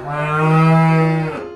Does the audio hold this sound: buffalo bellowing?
yes